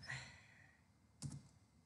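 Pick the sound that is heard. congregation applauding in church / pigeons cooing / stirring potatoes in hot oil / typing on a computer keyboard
typing on a computer keyboard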